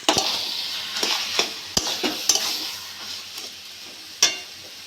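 Prawns and taro greens are stirred in a hot pan, a continuous sizzle broken by sharp scrapes and knocks of the spatula against the pan, close and fairly loud with no talking.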